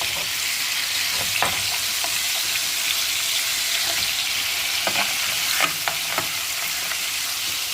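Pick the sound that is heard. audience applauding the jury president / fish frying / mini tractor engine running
fish frying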